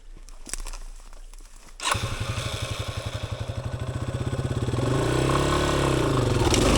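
A dual sport motorcycle, a Yamaha XT250 or Suzuki DR650, crosses a log off-road: the engine thumps into a steady close chug after a quiet start, then revs higher and louder toward the end.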